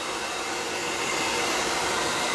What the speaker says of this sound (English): Put it on high. If you don't have a blow dryer, don't worry about it.